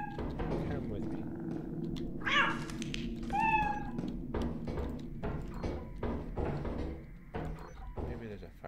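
A cat meows several times amid the steady din of a multiplayer game session, short bright calls rising over constant background noise and clatter.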